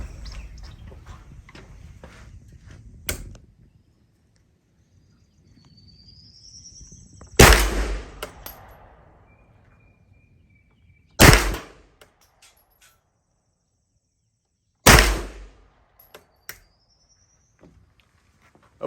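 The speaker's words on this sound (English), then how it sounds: "He's gonna fire a 3-shot shot group" An H&K MP5/SP5 fires single shots at 25 yards on an outdoor range, each a loud, sharp crack spaced several seconds apart, with quiet gaps and faint ambient noise between.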